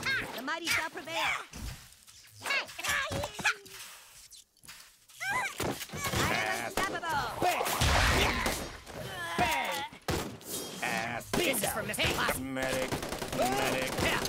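Rapid gunfire and bursts from the South Park Phone Destroyer mobile game, dense volleys of shots and thuds, loud and continuous, with brief quieter gaps.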